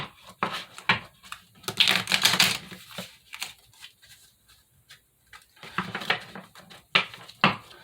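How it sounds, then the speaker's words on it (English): Repeated riffling bursts of tarot cards being shuffled nearby, several quick flurries separated by quieter pauses and scattered clicks. "I have shuffled these cards already"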